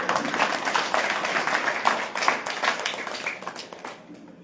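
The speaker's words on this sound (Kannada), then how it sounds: "ಚಪ್ಪಾಳೆ" Audience clapping at a talk to farmers' children, a dense steady patter of many hands that keeps going, then thins and stops near the end.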